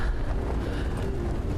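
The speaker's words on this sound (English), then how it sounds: "It's ridiculously windy up here." Strong wind batters the microphone on the exposed summit of Scafell Pike, a steady loud roaring buffet with no voices.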